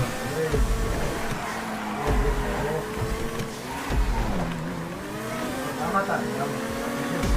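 Cars race in GTA 5 Online with a steady engine drone that rises and falls through gear shifts and revs, while players chat over the game sound.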